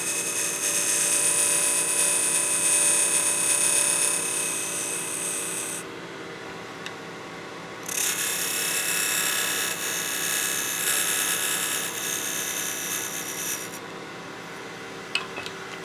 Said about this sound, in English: we'll bring our lathe speed back up to that 1800 RPM. I'll use my skew to cut a chamfer